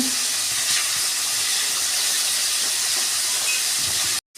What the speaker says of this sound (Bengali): কপিগুলো একটু ভালো করে ভাজবো।